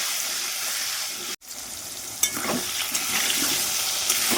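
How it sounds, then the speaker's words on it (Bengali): Potatoes fry in hot oil in a pan with salt, a close, steady sizzle broken by a brief cut, then scraping stirs and soft clatters as they are turned. "নেড়ে চেড়ে আলুগুলোকে লালচে কালার করে ভেজে নেব"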